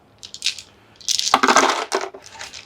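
Plastic dice for the board game Tamashii: Chronicle of Ascend are poured out and clatter on a table. A few light clicks come first, then a louder burst of rattling that settles into scattered ticks, close by with no talking.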